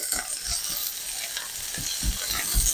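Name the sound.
food cooking and sizzling in a pan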